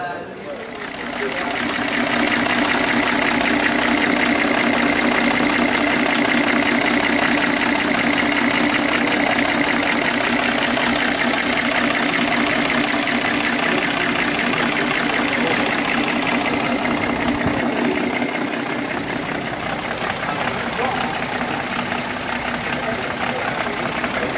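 A steady, continuous engine idles close by at an inventions fair in Abidjan, a constant mid-pitched rumble with little variation for the whole stretch.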